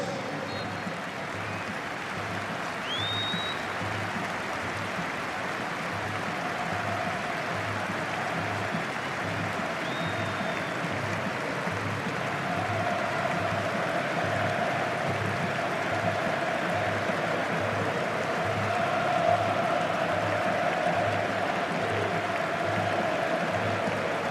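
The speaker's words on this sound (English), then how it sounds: "We invite you now to show your respect with a period of applause." Stadium crowd applauding in tribute to former England player and manager Terry Venables before an England versus Brazil match, a steady, broad wash of clapping from a large distant crowd sustained throughout, swelling slightly toward the end.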